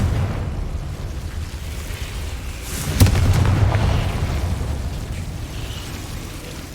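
A Confringo fire spell blasts in Hogwarts Legacy: one sharp burst with a brief rumbling boom that trails off, set against steady background game ambience.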